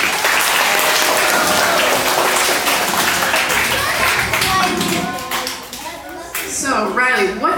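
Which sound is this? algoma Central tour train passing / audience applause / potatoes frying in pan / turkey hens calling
audience applause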